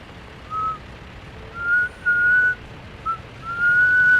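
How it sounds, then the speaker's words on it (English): Shrill human whistle shrieks at a steady high pitch, five bursts in an uneven rhythm, short and longer ones, loud and near over a faint background hiss. "they do like this like ear-piercing whistle shriek out of their mouths"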